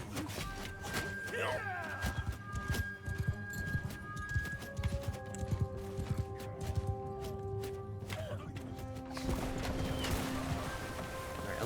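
Horse hooves in the samurai video game Shokuho, Path of the Samurai, a quick irregular clip-clop under battle noise and scattered game sounds, fairly faint overall with a brief whinny early on.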